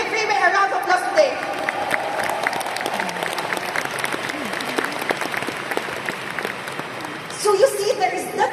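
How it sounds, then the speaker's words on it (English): Crowd applause and some cheering at a leadership training seminar, a steady wash of many clapping hands with brief voices rising over it near the start and end. "Can we give Riway a round of applause today?"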